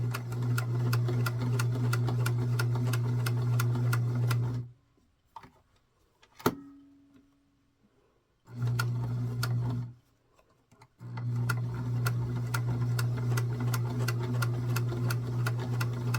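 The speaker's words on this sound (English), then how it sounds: "We are now going to sew down the back flaps of the skirt." A sewing machine stitches the back flaps of a small doll's skirt in fast, steady mechanical bursts, pausing twice with quiet clicks and a sharp tap between runs.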